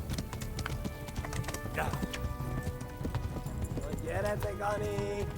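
Horse hooves clip-clop steadily at a canter in the video game Kingdom Come: Deliverance, with a couple of brief whinnies, game voices and ambient noise underneath.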